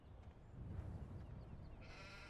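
Sheep bleat quietly in the Farming Simulator 17 video game, soft distant calls over low ambient hum, with a thin tonal layer entering near the end.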